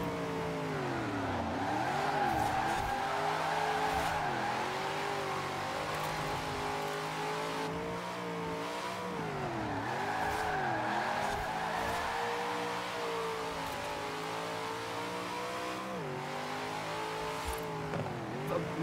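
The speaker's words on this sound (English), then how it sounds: "Gonna have to drift it on this." A car drifting in Forza Horizon 4, driven with a Logitech G920 steering wheel: the engine revs rise and fall repeatedly with tire squeal, loud and continuous throughout.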